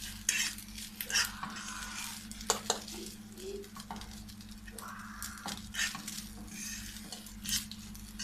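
Egg fried rice seasoned with cayenne pepper gets stirred in a pan, the utensil scraping and clinking against the metal in an irregular rhythm over a low, steady sizzle, close and fairly loud with no one talking.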